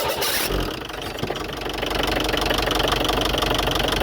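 A 1.6 diesel engine in a Volkswagen Passat idles with a rough, knocking rumble, steady and close, after a brief start-up change at the beginning.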